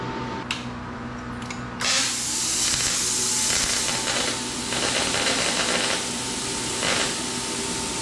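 Compressed air hissing steadily through a plasma cutter after the pressure is raised, a broad loud rush that jumps up sharply after a couple of seconds and holds with slight surges, over a low mechanical hum.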